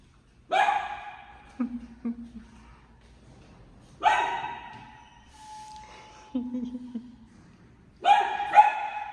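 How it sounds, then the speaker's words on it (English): A dog behind an apartment door in a downtown Los Angeles condominium building barks three times in loud, evenly spaced bursts, each followed by softer yips and whimpers. "someone has a doggy"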